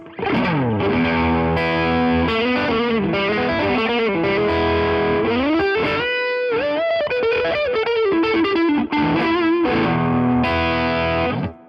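Electric guitar played through a Rajani Amps VOD-50 tubeless amp with a 6 dB boost engaged: loud, continuous driven chords and sustained notes, with a short choppy break midway before the ringing, effected tone returns.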